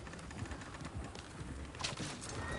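Horse hooves clip-clop at a steady walking pace in the Red Dead Redemption 2 video game, soft and fairly distant, with faint birdsong in the background.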